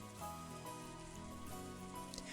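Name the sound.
wind and rain sound effect from the video game Umineko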